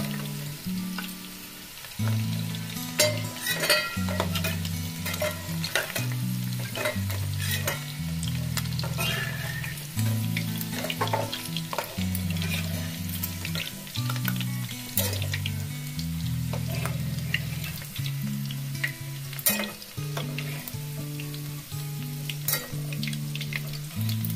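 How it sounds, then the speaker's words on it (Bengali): Chicken pieces fry in a pan for a cheesy chicken dish: a continuous close sizzle under frequent stirring scrapes and clanks of the utensil against the pan, sustained throughout with no talking. "এইভাবে সব চিকেনগুলোকে আমি একে একে ভেজে নেব।"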